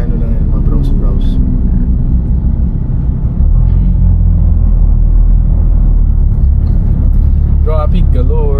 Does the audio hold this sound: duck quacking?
no